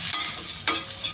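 Cumin seeds, chana dal and curry leaves fry quickly in hot oil in a pan, a bright close sizzle with two quick stirring scrapes.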